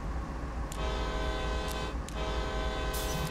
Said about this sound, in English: Let's sound a horn.